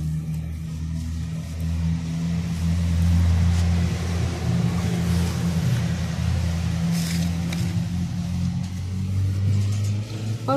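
Steady road traffic noise with a low car engine rumble, passing vehicles droning continuously and fairly loud, no talk.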